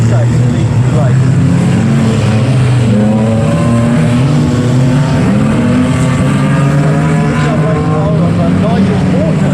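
Racing machines in a motor race drone past loudly, their engine tones rising and sliding steadily with a continuous roar, while a commentator talks over the noise throughout.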